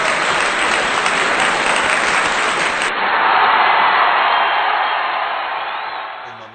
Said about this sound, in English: In my mind, there's applause.